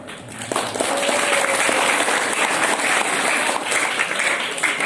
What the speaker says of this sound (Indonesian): Tepuk tangan, mesti dong.